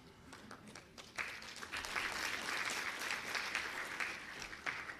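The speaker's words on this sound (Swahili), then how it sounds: "naomba tena tuwapongeze kwa makofi mengi kabisa kabisa" Sustained crowd applause at a government ceremony in Dodoma receiving EU budget support funds, swelling after a moment into a dense, steady clapping from many hands that continues to the end.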